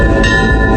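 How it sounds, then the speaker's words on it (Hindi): A temple bell rings loud and steady, its sustained metallic tones holding without fading over a low rumble, with no voices present. "वहां से थोड़ा आगे जाने के बाद उसे मंदिर की घंटी सुनाई दी।"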